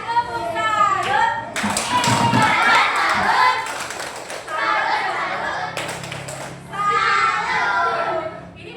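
A group of children claps during a classroom lesson on computational thinking. Three bursts of applause come close together, with children's voices and chatter mixed in.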